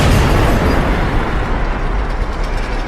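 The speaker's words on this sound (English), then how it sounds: "Looks like they brought the artillery." Heavy artillery explosion rendered as a sound effect, a loud, sustained rumbling blast that fills the whole clip and trails off slightly toward the end, with no voices.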